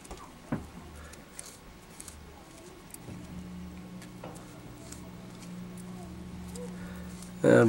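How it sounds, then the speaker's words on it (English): Scissors trimming fuzzy material give a few faint, brief snips, spaced apart and partly masked under a steady low hum and background noise. "We'll just trim the fuzzy stuff."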